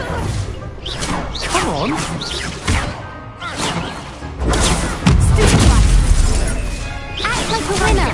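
Confringo blasting spells erupt in the Hogwarts Legacy video game, booming and crashing repeatedly through a hectic fight, mixed with swooshes, music and shouted combat voices.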